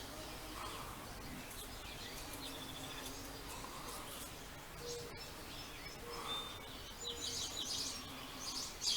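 Backyard birds gathering near a neighbor's bird feeder, chirping and tweeting faintly in the distance in scattered bursts over soft outdoor ambience, growing a little busier toward the end, with no voices.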